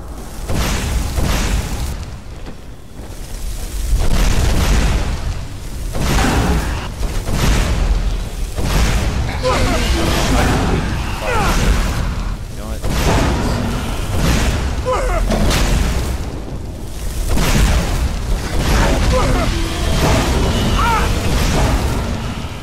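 Fire spell blasts in Skyrim burst out in a rapid series of loud, booming whooshes, one after another almost without pause, filling the whole stretch with rolling explosive roar.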